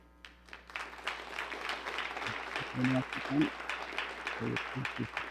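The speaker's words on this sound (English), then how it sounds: "Nice round of applause." Audience applause at the final of a women's 9-ball pool world championship, a steady wash of clapping from a crowd at moderate distance, with a commentator's voice and a few low knocks over it.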